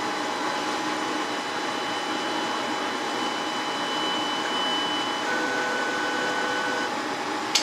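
A Wanhao Duplicator 7 Plus resin 3D printer slowly moves its build platform, giving off a steady, fairly loud motor whine with faint tonal hums that hold for the whole stretch.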